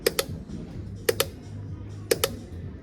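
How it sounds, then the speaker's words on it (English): Gear shifters on a Moser sim racing rig click sharply in pairs, three double clicks spaced about a second apart, crisp and close against a low hum. "I love the clicks of the shifters."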